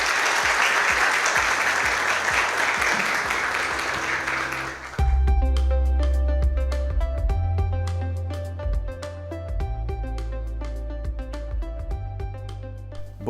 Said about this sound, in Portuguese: Pedir uma salva de palmas para essas pessoas.